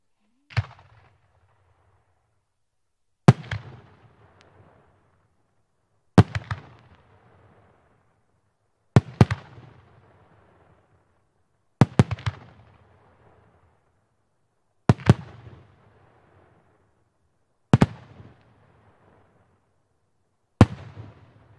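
A string of 100 mm calibre firework shells with a Smiley effect, eight sharp loud bursts spaced roughly three seconds apart, each followed by a short crackling decay and silence between.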